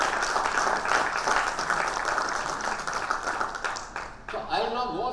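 A crowd at a startup and investor event gives a sustained round of clapping in memory of someone, a moderately loud, dense patter that thins toward the end as a voice starts speaking.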